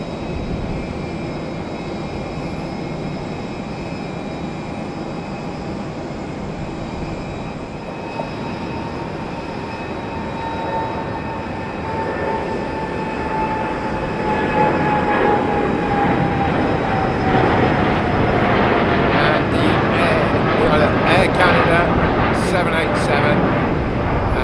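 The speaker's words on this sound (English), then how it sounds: "That is United's 787 Dreamliner going off to San Francisco." A United Boeing 787 Dreamliner jet departs London Heathrow for San Francisco, its engine roar building steadily from a distant rumble to a loud, close pass with a rising whine, and a voice speaks over it.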